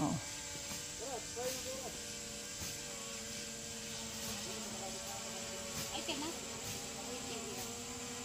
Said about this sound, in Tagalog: Ang lakas din pala ng sound ng drone na iyan